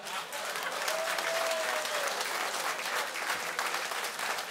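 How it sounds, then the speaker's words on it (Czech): A crowd at a concert gives a standing ovation, with dense, sustained applause that stays loud and even throughout. Some faint voices sit beneath the clapping. "A přímo tleská ve stoje."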